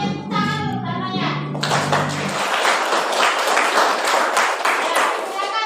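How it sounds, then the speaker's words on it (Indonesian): Schoolchildren in a classroom clap together in a dense, sustained burst of applause after a teacher speaks briefly, the clapping continuing loud and close to the end. "semuanya tepuk tangan dulu pertamanya."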